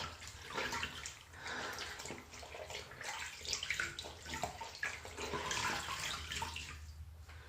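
Running water splashes continuously as a homemade natural face scrub is rinsed off at close range, a steady wash with small surges, no talking.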